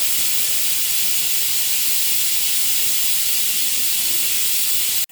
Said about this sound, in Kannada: ನೋಡಿ, 2 ವಿಷಲ್ ಆಗಿದೆ.